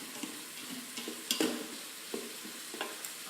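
Onions sauté in a soup pot with a soft, close sizzle, interrupted by several stirring scrapes and one louder spoon knock, no speech.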